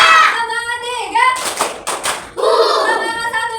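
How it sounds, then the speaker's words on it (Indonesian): Several quick group hand claps from a classroom of pupils doing a 'tepuk semangat' cheer, falling between stretches of a teacher and children chanting. "Tepuk semangat 1, 2, 3, ya."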